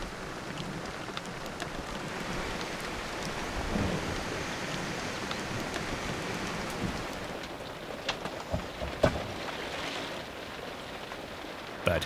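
Steady rain pours down across the Tanzanian landscape, a dense continuous hiss with scattered louder drops and faint rumbles of distant thunder, no voices.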